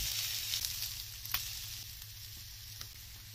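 Egg and cabbage frying in a four-section egg pan, a soft steady sizzle with a few faint crackles and pops, close and quiet, with no voices.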